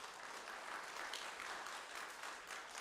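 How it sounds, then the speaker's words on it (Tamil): Audience applause at a Rotary event, a brief burst of dense clapping from a crowd, moderately distant and steady for a few seconds. "நல்லா கைத்தட்டலாங்க"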